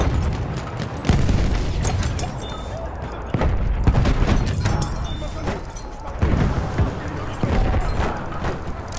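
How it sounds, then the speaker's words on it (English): Heavy bomb blasts in Battlefield 1, roughly four deep booms spaced a few seconds apart, rolling under scattered gunfire and battlefield noise. "Bomba atıyorum. Hazır olun."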